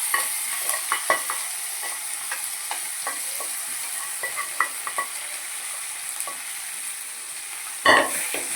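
Broad beans and tomatoes frying in oil in a pan, a soft steady sizzle broken by repeated clinks and scrapes of a stirring spoon, with a louder clatter near the end.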